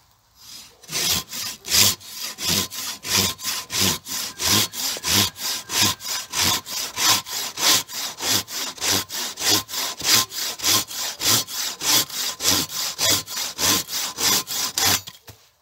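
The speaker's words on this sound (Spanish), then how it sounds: "Vamos a ver cómo consigue, cuántos ciclos consigue cortar este tronquito." A Silky KatanaBoy 650 folding saw cuts through a small log in about two dozen strokes, a rapid, even rhythm of rasping push-pull sawing close up, with no talk.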